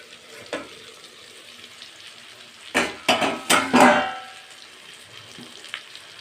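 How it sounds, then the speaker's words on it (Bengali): Small fish frying in oil in a pan, a soft background sizzle broken midway by a brief burst of scraping and clattering as a spatula turns the pieces, then settling back to quiet sizzling. "হালকা হাতে খুন্তি দিয়ে উল্টে দেব"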